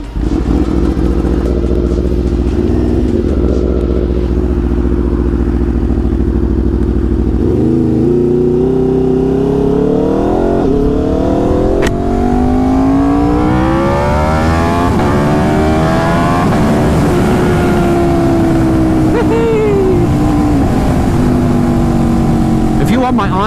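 An Aprilia RS660 motorcycle is ridden and accelerates hard, its loud engine note climbing in pitch through repeated pulls under heavy wind rush, heard close up from the rider's position.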